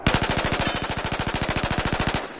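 A carbine rifle in Battlefield 4 fires on a shooting range: one loud, steady full-auto burst of rapid evenly spaced shots lasting about two seconds, heard alone.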